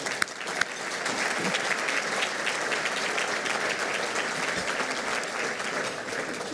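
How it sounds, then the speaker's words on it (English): A crowd at a Wisconsin Business Hall of Fame awards dinner applauds a sponsor. The clapping is steady and full and fills the whole stretch without fading. "Let's give a round of applause to the Journal-Sentinel."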